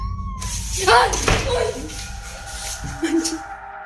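Strange, unnatural meowing comes from something that may be a person imitating a cat. A few drawn-out, wavering meows sit close and moderately loud, along with a knock-like thump and a voice nearby.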